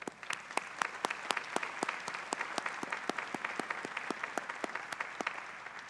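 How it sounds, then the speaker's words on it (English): Audience at an honors convocation ceremony applauding, with a few distinct sharp claps standing out in a fairly regular rhythm over a wash of softer clapping in a large hall. "Please give him a round of applause."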